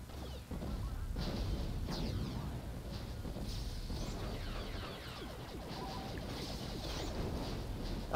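Rocket explosions in the Star Wars Renegade Squadron video game, a dense run of loud crashing blasts and rumbling impacts packed over a constant battle din, with sharp smashes near the start and middle.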